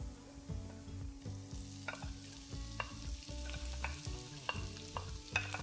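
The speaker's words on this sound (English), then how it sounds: "add the onions and saute for a few minutes until light golden brown" Onions sauteing in a pan for paneer bhurji, a steady sizzle broken by repeated scraping stirs and small clinks of a utensil against the pan, close and fairly loud throughout with no talking.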